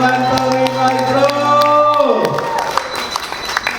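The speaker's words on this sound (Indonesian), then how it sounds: "Tepuk tangan dong untuk Phantom Device Pro." Audience applause and cheering in a crowded hall at a health-therapy event, starting under a sustained musical tone that cuts off, then continuing as dense, steady clapping with scattered whoops.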